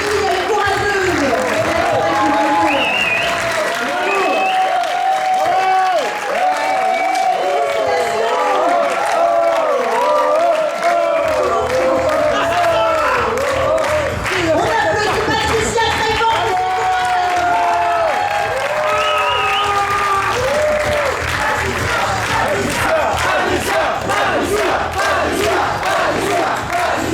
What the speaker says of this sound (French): on applaudit, elle est courageuse